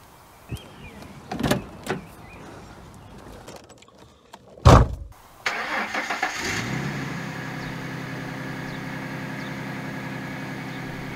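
A Ford Mustang on a home driveway: a few door and latch clunks, a sharp thump of the door shutting, then the engine cranks and catches into a steady, rumbling idle that carries on alone, close by.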